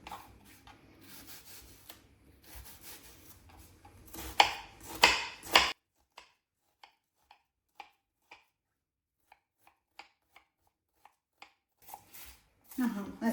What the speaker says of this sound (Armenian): մանր կտրատելու եմ սոխը